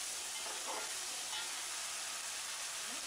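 Tomatoes with salt frying and being stirred in a pan for a pomfret fish curry, giving a steady close sizzle and hiss with faint scraping of the stirring.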